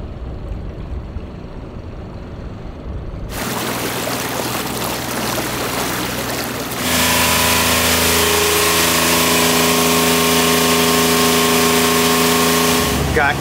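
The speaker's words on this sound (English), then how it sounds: "doing some testing on the engines, capturing some data" Sailboat engines run during testing, a loud steady drone with a strong tonal hum that rises in level partway through and holds over rushing wind and water noise.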